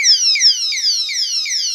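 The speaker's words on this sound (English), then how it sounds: "a quite loud alarm sounds, and until we don't open it, it doesn't stop." A stainless steel security lock's 70 dB alarm blares nearby in a loud, repeating pattern of quickly falling electronic tones, each sweep about a third of a second long, with no pause between them.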